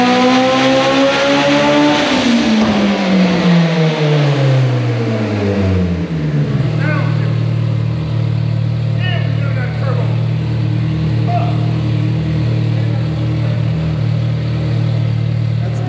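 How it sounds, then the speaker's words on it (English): Turbocharged Eclipse engine on a dyno, revving hard through a rising sweep for about six seconds, then holding a loud steady drone; close and dominant, with faint voices underneath. "and now we're ready for a pull."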